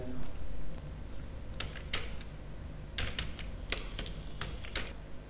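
Quiet clicking of keys on a computer keyboard while typing text in CorelDRAW, short irregular bursts of taps spread over several seconds against a low background hum.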